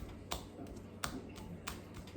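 Bare feet clapped together at their inner sides, three soft, sharp slaps evenly spaced, close and quiet.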